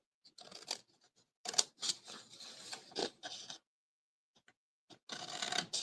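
Scissors snipping through a fabric tag, cutting just outside the fold, in several short bursts of crisp snips separated by pauses, close and fairly quiet.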